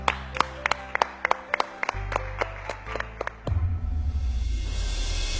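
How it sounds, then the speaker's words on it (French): A studio audience at a Dinor cooking contest semi-final starts off with a few sharp, separate claps close by, then swells into loud, dense applause that carries on steadily. "On l'applaudit très fort"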